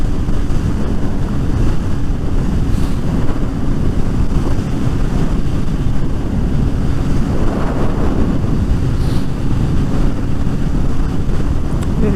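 Steady, loud wind roar buffets the microphone throughout while riding a Suzuki GSX-S750 motorcycle, a continuous low rumble with gusty swells and no speech.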